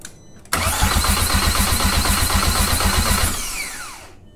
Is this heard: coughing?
no